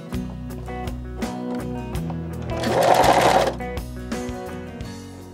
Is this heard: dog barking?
no